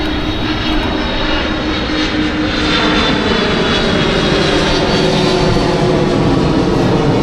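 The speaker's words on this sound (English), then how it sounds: "Wow, look at that plane." An airplane flying overhead, a loud continuous engine roar that swells slightly and holds steady throughout, heard from outdoors on an eBike commute with no talking.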